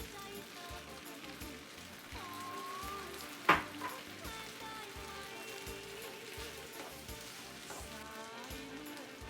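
Green onion frying in a pan with noodles gives a steady, soft sizzle, broken once by a sharp clack of a utensil, with quiet background noise and no voices.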